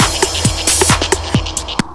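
Timestretched drum beat at 123 BPM played back in Cubase, with punchy kicks and snare hits over a steady hissing cymbal wash, loud and busy, with a slightly grainy, throbbing texture.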